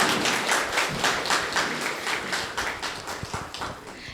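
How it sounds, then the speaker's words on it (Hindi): Audience at a certificate distribution ceremony clapping to welcome guests onto the stage, a steady, fairly soft round of applause with a rhythmic pulse, heard alone. "सभी ताली बजाकर उनका स्वागत करेंगे।"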